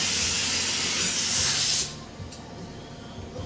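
Spray gun painting a car bumper and hood, a loud steady hiss of spraying for almost two seconds that cuts off abruptly, leaving quieter room noise behind.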